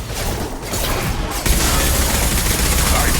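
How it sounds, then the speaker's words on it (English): Sustained gunfire from Mass Effect Legendary Edition: a loud, dense volley of rapid shots and booms that grows heavier and more continuous halfway through, without pause. "Nice shooting."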